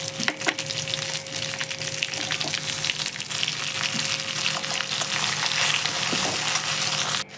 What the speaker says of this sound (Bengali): এখানে একটু রাঁধুনি নিয়েছি, একটা তেজপাতা, একটা শুকনো লঙ্কা, আর নিয়েছি একটু জিরে। তো ফোড়নগুলো আমি দিয়ে দিলাম।